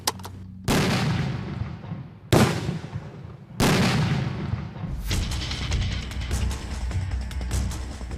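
Blasts set off by army combat engineers in a demolition drill: three sharp, loud explosions roughly 1.5 seconds apart, each with a booming rumble that tails off, then a sustained crackling roar of debris and echoing aftermath.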